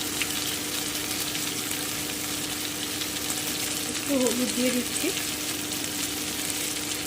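Pea paste frying in a wok over low heat, a constant broad sizzle and hiss throughout, with a person speaking briefly partway through.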